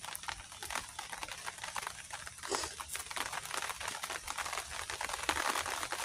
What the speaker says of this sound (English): Here comes the rain again. Just the hardest it's rained so far.